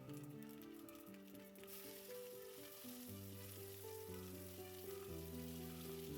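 Mustard seeds and fenugreek give a soft, continuous sizzle in hot oil, heard faintly beneath gentle background music.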